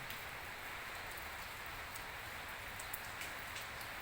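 Rain pours steadily through an all-day downpour, an unbroken hiss of raindrops pattering on surfaces at an even, moderate loudness, alone without speech.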